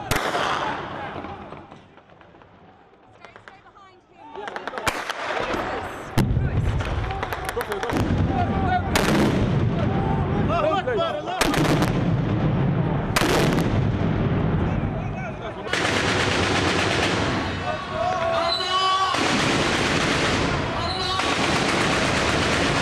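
Artillery, mortar and tank fire pound the central square of Zawya, Libya, in heavy repeated booms and cracking gunfire, loud and echoing, building into sustained volleys with voices partly audible beneath the blasts.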